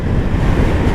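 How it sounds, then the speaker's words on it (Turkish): Steady rumbling wind buffets the microphone while riding a CFMOTO 250NK motorcycle on a motorway, a constant low roar with no voices. "Ay rüzgar itiyor"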